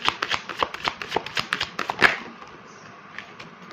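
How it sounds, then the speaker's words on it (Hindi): A deck of tarot cards is shuffled close up, giving a quick rhythmic series of riffling flicks that ends in a sharp tap and then quiet. "चलिए अब मैं कार्ड शफल करती हूँ"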